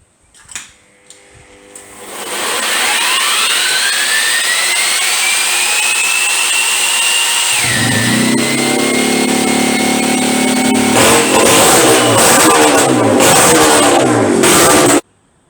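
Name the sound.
motorcycle engine running after rebuild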